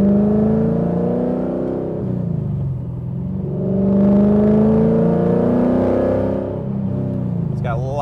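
A Coyote V8-swapped 1997 Ford Mustang SVT Cobra rolling down a street, its engine a steady close drone that swells, eases off and swells again.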